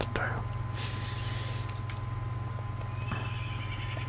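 A horse neighs in the Minecraft video game, a short whinny near the start and further whinnies later, over a steady low hum while someone speaks softly.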